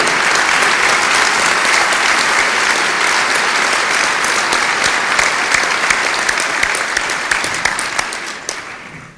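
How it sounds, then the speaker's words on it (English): Sustained applause from a large crowd, dense and loud clapping that continues steadily before gradually fading out. "a round of applause, please, for this distinguished group"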